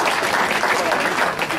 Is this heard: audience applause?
yes